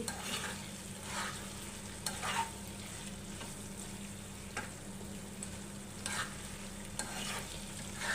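Loitta dried fish and potato curry stirred with salt in a pan: continuous close sizzling with repeated rhythmic scrapes of the spoon every second or so, with no talking.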